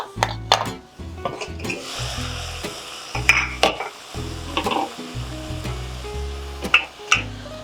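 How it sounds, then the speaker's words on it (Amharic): Onions frying in oil in a home kitchen, with a steady sizzle broken by repeated stirring and clinks of a utensil against the pan, close up and with no one talking. "እኔ በዘይት ብቻ መጥበስ ይቻላል ሽንኩርቱን"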